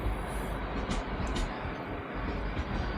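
A train rolls past at a seaside location along a coastal walk, a steady broad rumble that holds at a constant level for about three seconds with no voices over it.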